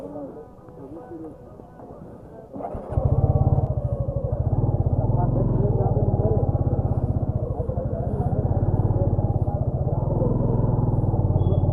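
Motorcycle engine on the hill road climbing from Madhuban toward Parasnath Hills, starting up after about three seconds into a loud, steady, throbbing drone that holds to the end, with someone talking over the quieter opening.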